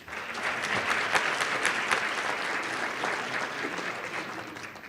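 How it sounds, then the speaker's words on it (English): An audience applauding at an evening student awards ceremony, steady mid-level clapping from a sizable crowd that holds evenly for about five seconds before beginning to ease. "a round of applause for James."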